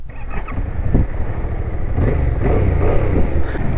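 A Yamaha MT-07 motorcycle engine cranks and fires up, settling into a steady, loud idle rumble close by with no talking.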